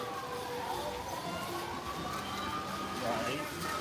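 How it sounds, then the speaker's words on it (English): A siren from an emergency vehicle wails in the distance, its faint rising and falling tone carrying steadily beneath nearby talking and crowd noise at an outdoor theme park. "I think I hear sirens"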